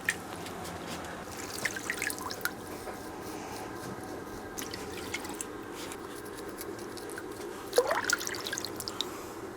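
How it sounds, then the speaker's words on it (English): Water trickling, dripping and squishing as bonsai tree roots are washed, soft and close with a steady wet background and a brief louder splash near the end. "So I have washed the roots as much as I can"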